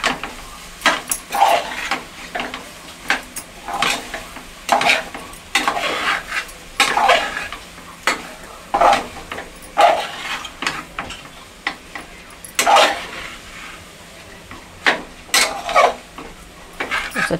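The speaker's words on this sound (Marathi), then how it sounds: "आता आपण त्याला एकत्र तेलात परतून घेऊया." Jackfruit vegetable is stir-fried in oil in a pan at home, with a spatula scraping and clinking against the metal in uneven strokes, close and clear over a faint sizzle, with no talking.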